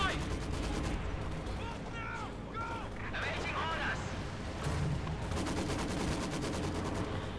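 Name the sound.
incendiary mortar round firing in Company of Heroes 2 video game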